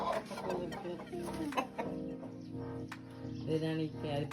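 A rooster and hens in a village yard cluck and call repeatedly in uneven, overlapping bursts, close and fairly loud, for several seconds.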